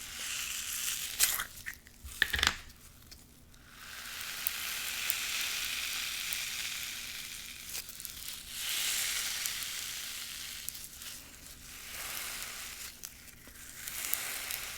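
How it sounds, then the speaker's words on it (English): Coarse sand slime from Bleu Slimes is squished and worked by hand, giving a steady gritty crackling and sizzling texture that swells and eases in waves, close up with no talking. "This is a coarse sand slime."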